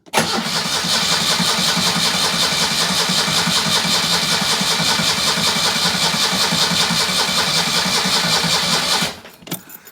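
A Citroen 2CV's small engine fires up on choke and runs at a steady, buzzy idle for about nine seconds before cutting off.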